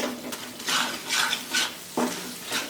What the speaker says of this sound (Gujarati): છેલ્લે આપણે ગોળ એડ કરી દઈએ અને હલાવી લેવાનું છે